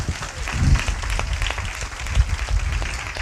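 A church congregation claps hands together in a dense, continuous wash of applause, loud and steady for the whole stretch.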